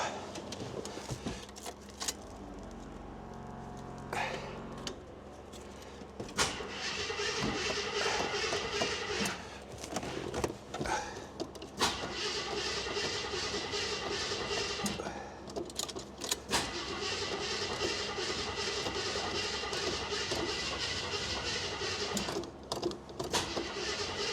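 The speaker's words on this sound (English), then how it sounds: "Wagoneer has to work through some old fuel, but it is idling and starting" An old Jeep FSJ Wagoneer engine, running on stale fuel after long sitting, catches and settles into a loud steady idle after starting, with brief dips and clinks of keys or handling around it.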